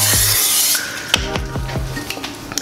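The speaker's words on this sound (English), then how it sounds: "So I have some non-stick olive oil spray, and I'm actually just gonna spray that on the rack." Short bursts of non-stick olive oil spray hissing onto an air fryer rack, followed by several close, sharp clicks and taps of the can and rack.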